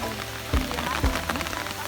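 Light rain patters steadily on a surface outdoors during an evening outing to catch tadpoles, with a couple of soft thumps and no talking.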